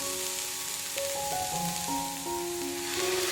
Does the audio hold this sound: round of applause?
no